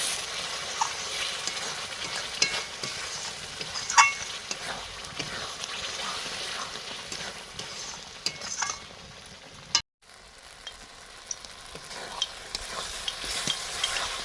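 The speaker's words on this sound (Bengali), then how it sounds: "মশলাটা কষানো চলছে।" Spice masala sizzles steadily as it is sautéed in a pan for a chicken curry, with a constant hiss broken by occasional stirring clinks and scrapes, close up and without speech.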